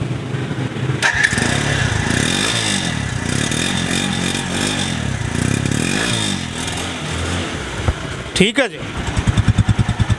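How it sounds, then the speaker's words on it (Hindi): A Suzuki GD 110 motorcycle engine runs and revs nearby while someone talks; near the end it is self-started and restarts into a rapid, even putter. "सेल्फ स्टार्ट ने किया फौरी काम, half self start Suzuki GD 110"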